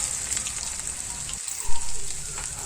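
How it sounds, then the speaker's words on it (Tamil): Crushed garlic fries in hot oil in a pan for chicken devil, a dense, continuous close sizzle with a brief dip and one soft knock partway through, no talking. "ஒரு சட்டியில் ஒரு இடித்து வச்ச வெள்ளைப்பூடு கொஞ்சம் நல்லா எண்ணெயில் போட்டு நல்லா வதக்கிக்கணும்"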